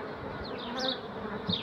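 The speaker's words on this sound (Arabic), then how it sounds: "النحل شغال وكميات ممتازة." Honeybees buzz close up at beehive frames in a dense, continuous drone, with individual bees' pitches rising and falling as they fly past.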